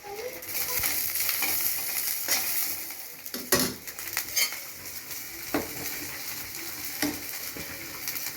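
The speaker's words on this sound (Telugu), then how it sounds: "పచ్చిమిర్చి కూడా బాగా వేగినాయి చూడండి. ఇలా వేయించుకోవాలి ఫ్రెండ్స్ పచ్చడికి." Green chillies sizzle steadily in hot oil in a pan for chutney, a continuous close frying hiss broken by scraping spatula stirs and occasional clinks of utensils against the pan, with no voices.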